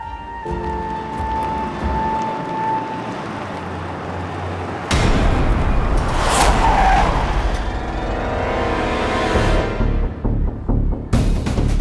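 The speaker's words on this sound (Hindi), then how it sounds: "अब गाड़ी चला रही है, रेस कर रही है।" A car races and skids along a road in a TV drama scene, with loud engine roar and tire noise that swells midway, a sharp screech, then further driving bursts near the end.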